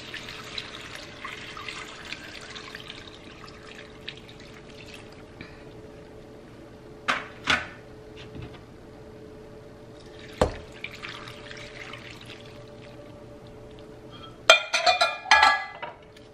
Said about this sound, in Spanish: Vamos a añadir 6 tazas de agua ahora.